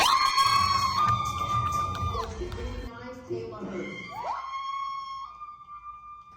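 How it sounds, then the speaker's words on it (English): Crowd at a bodybuilding show cheers loudly, with a piercing high-pitched scream rising over it, then the noise fades into scattered shouts and whoops. "that high-pitched scream you heard was Lawna Dunbar."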